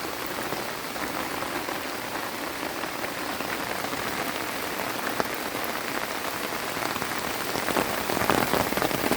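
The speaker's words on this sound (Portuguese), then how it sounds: "Aí a chuva começou a engrossar de novo, né, aumentar." Rain falls steadily among green plants and a pepper bush in Pará, a dense broadband hiss of drops striking leaves and ground that grows louder toward the end as the downpour thickens.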